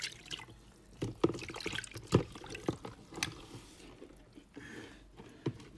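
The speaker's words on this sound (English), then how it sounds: "So I'm going to wash my hand now." Running water splashes and patters irregularly over hands being washed, with uneven drips and trickles close by, fairly quiet, with no voices.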